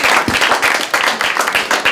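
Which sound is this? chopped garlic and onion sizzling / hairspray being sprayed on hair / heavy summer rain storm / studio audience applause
studio audience applause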